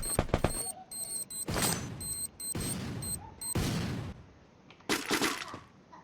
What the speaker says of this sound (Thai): แล้วระเบิดมาครับ